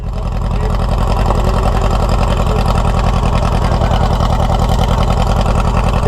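A 1970s VW trike engine idles close by, a loud, steady rapid putter with an even chugging pulse and no talking over it.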